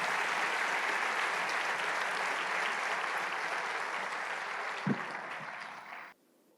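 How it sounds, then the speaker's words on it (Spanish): Church congregation applauding during a worship service, a dense, sustained roar of clapping from a large room that holds steady for several seconds, then fades and cuts off abruptly. "dale ese aplauso al Rey de Reyes"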